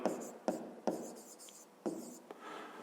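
A pen writes by hand on paper while a maths exercise for a fifth-grade class is worked out. It makes faint, close scratching strokes in short separate bursts with small gaps between them.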